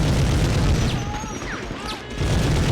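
Loud, dense gunfire bursts and booms from the video game Medal of Honor fill the scene continuously with a brief lull near the end before the noise picks up again.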